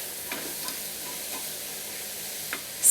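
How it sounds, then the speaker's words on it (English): Corn kernels sautéing in oil for sweet corn soup, a quiet, even sizzle with a few light stirring scrapes spaced apart, ending in a brief louder bump, and no one speaking. "And then saute the corn for 2 to 3 minutes until they are translucent."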